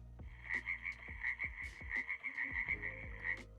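AI-generated frog sound: a frog croaks repeatedly in quick, uneven bursts, close and clear, with a steady trilling tone running underneath and no voices.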